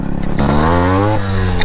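A Yamaha RX two-stroke motorcycle engine revs close and loud, its buzzing pitch climbing sharply, holding a steady high whine, then dipping and rising again in a brief blip.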